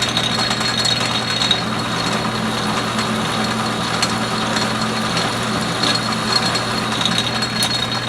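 An Atlas lathe cuts threads on a 1-1/2 inch, 6 TPI bolt with an oiled high-speed steel tool, giving a steady, loud, close mechanical whir and grinding drone with no pauses.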